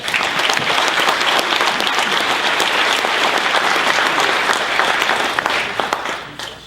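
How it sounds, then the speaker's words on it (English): An audience at a National Wrestling Hall of Fame honors banquet applauds its committee members, dense sustained clapping that stays loud and then tapers off at the end. "We could give them a round of applause."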